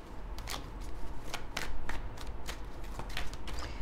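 A deck of tarot cards is shuffled close by in quick repeated riffles, each burst a crisp papery flutter, with short pauses between them and no talking.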